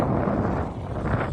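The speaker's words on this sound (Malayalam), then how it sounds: "ബ്രഹ്മപുത്രേൻ്റെ കാറ്റടിക്കുകയാണോ നിനക്ക്?" Strong wind buffets the microphone on a ferry crossing the Brahmaputra river in Assam, a steady, loud broadband rush with gusty swells, heard alone without speech.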